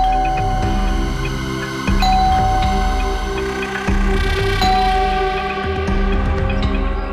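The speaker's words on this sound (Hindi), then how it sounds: "जब चाबी है तो गेट खोलना, डोरबेल क्यों बजा रही है?" Doorbell ringing at a house door, heard as repeated electronic chimes over a steady tonal background, loud and close with no voices.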